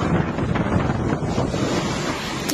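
Strong typhoon wind under a Tropical Cyclone Wind Signal in Cagayan, loud and steady as a dense roar buffeting the microphone, with constant rushing gusts and no voices.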